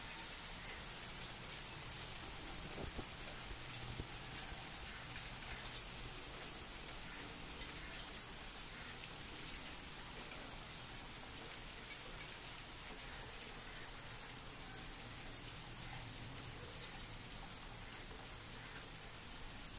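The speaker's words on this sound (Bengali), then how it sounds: "বৃষ্টিটা খুব হালকা ছিল, একদম গোড়া গোড়া ছিল, খুব ঘন, প্রচন্ড ঘন, এক্সট্রিমলি ডেন্স" Light but very dense rain falls steadily, a continuous soft hiss of countless fine drops with occasional faint single taps, spread evenly and without gaps, no voices present.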